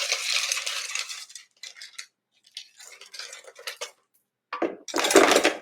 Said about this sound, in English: So I'm just gonna put in a cup of ice.